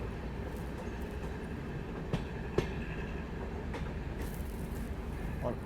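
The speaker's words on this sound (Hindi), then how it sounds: "फाइनली चित्तौड़गढ़ रेलवे स्टेशन में अपना अराइवल जो है वो हो रहा है।" A train pulls into Chittorgarh railway station on the Prayagraj–Bikaner Express, a steady rumbling roll with a few sharp clanks and squeaks, fairly close, with no talk over it.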